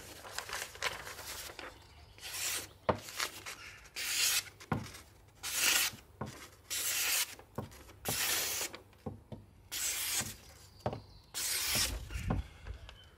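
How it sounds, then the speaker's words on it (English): A Hultafors carpenter's axe being sharpened outdoors, with a dozen or so rhythmic scraping and rasping strokes, each about half a second, close and fairly quiet with brief pauses between passes. "that's a simple way of sharpening an axe"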